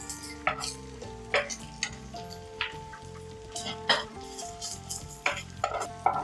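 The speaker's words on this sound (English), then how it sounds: "Now roast everything well until the onions turn slightly golden." Onions, garlic, ginger and spices roasting in ghee in a pan for Mangalorean chicken ghee roast: a steady sizzle broken by repeated scraping stirs, close and fairly loud over a steady tonal background.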